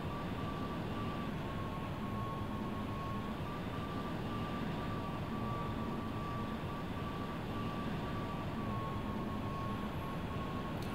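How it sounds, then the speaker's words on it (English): A jet aircraft taxis in the Vietnam-era flight sim Strike Fighters 2: Vietnam, giving a steady, quiet whine and droning turbine hum that holds level throughout, with no talking. "folding up and taxiing clear of the landing zone"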